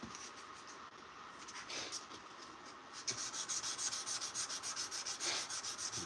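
800 grit sandpaper rubbed by hand along a forged blade makes a close, light scratching. Soft strokes come first, then a quick regular back-and-forth rhythm of rasping strokes, with no talking.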